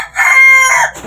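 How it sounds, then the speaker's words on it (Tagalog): A chicken gives a single loud, close crow of about one second, strong and harmonic, with no speech. "manok."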